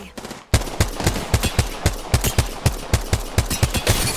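Video game gunfire with enemies shooting at the player: after a brief lull, a steady burst of sharp, loud shots fires in a quick, slightly uneven rhythm for several seconds.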